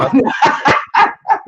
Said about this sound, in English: that's my dog, and he got locked in the office.